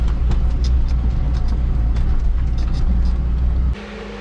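Volkswagen car driving through muddy puddles on a rough track at Cape Chameleon, a steady loud engine rumble with splashing texture, then an abrupt drop in level near the end.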